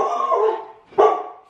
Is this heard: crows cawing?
no